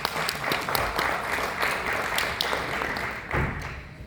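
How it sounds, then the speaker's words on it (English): An audience at the Africa automotive show in Algeria applauds a speaker being introduced on stage, steady clapping with some sharper individual claps standing out, moderately close and without talk. "Let's give her a warm applause"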